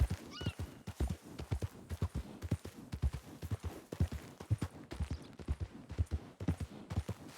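Horse hoofbeats from a ridden horse in Red Dead Redemption 2, moving around town: a steady, loud clip-clop rhythm of repeated hoof strikes that runs throughout, with a brief whinny-like sound early on.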